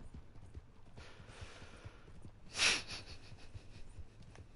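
Horse hooves clip-clop in Red Dead Online, a quiet, steady, rhythmic trot heard throughout, with one short breathy snort about midway.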